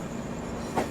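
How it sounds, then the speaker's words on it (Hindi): A WDG4 diesel locomotive from the Siliguri shed rumbles past on the rails in a brief, steady burst of rolling wheel and engine noise heard from a passing train, with no voices. "सिलीगुड़ी शेड का डीजल लोकोमोटिव"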